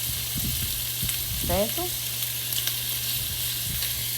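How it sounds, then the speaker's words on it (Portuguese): Chopped meat for feijão tropeiro frying and being stirred in a pan, a continuous close sizzle with scraping stir strokes. A voice speaks briefly over it. "E aí eu vou mexendo para poder começar a fritar e dourar"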